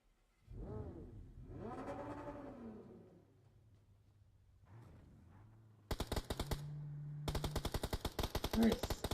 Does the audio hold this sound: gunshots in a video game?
yes